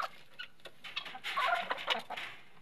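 Chickens in a small rooftop coop, soft scattered clucks and murmuring calls that build into a busier cluster midway, fairly faint and close.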